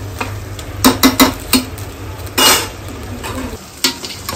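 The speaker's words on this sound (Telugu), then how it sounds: "3 kg చికెన్ వేసుకోవాలి. చికెన్ వేస్తాను. దీన్ని కొంచెం మగ్గనివ్వండి." Chicken frying in a pan with garlic paste, sizzling steadily while a utensil scrapes and stirs in several short clattering bursts, close and fairly loud.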